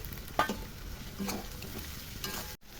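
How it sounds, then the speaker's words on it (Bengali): Finely chopped green chillies and onion hitting hot oil in a pan, a dense continuous sizzle with a few utensil knocks and stirring scrapes, close and steady. "লঙ্কা ছেড়ে দেবো সঙ্গে, লঙ্কা কুচি কুচি করে কেটে রেখেছিলাম। সঙ্গে পেঁয়াজ ছেড়ে দেবো"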